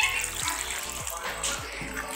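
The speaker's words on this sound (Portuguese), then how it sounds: "agora nós vamos completar ela com água gelada" Ice water pours steadily from a tap into a container of potatoes cut into sticks, a continuous close splashing and rushing flow with no talk.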